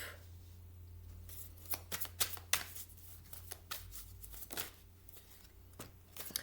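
Tarot cards shuffled and drawn on a table give a series of soft, crisp riffling slaps and flicks in irregular bursts, quiet and close, with no talk.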